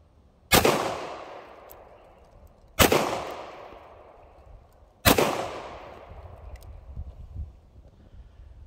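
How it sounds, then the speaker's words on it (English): Three loud, sharp revolver shots from a Ruger Security Six .357 Magnum fired downrange, spaced about two seconds apart, each with a decaying echo tail, and faint background noise between them. "There's some more shots downrange."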